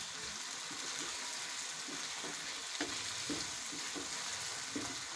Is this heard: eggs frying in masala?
yes